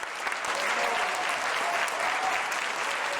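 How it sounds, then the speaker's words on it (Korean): Cheering and applause from an audience after a short Arirang song, a dense, steady wash of clapping and shouts holding at an even level throughout. "감사의 답례로 부른 짧은 아리랑 가락에 환호와 박수가 쏟아진다"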